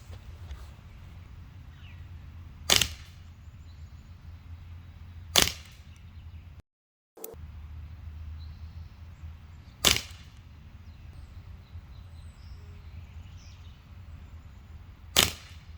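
A Strike Industries ARK17 Glock 17 CO2 blowback BB pistol fires single shots, five sharp cracks spaced a few seconds apart over a low background hum.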